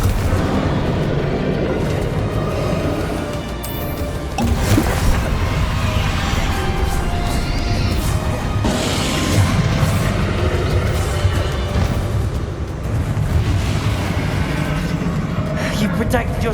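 Confringo fire spell blasts in a Hogwarts Legacy boss fight against Ranrock sound as repeated booming bursts layered over a dense, roaring battle din, loud and continuous, with voices speaking throughout.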